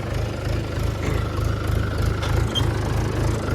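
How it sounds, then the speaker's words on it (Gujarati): A tractor engine runs steadily while discing a field, giving a loud, continuous low rumble with a regular throbbing pulse and no voices. "ટ્રેક્ટર ડિસ્કો કરે છે બીજા લોમાં"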